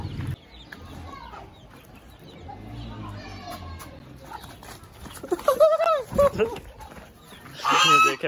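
Large ducks quack loudly and close by in scattered bursts, mixed with a person talking in Hindi and some rustling movement.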